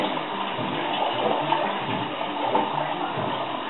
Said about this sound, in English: Now I'm just going to take some tap water. Right out of the tap. Just regular water. And I'm going to put the water in here.